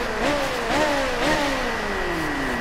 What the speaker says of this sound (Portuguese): dando uma esquentadinha no motor